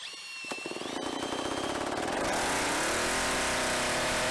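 A small two-stroke engine is started up, sputtering through rapid firing pulses before catching and settling into a loud, steady, high-pitched running drone, close by.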